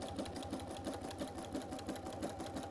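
A sewing machine running a zigzag stitch over elastic, its steady rapid needle chatter and motor hum continuing evenly and fairly quietly throughout, with no voices.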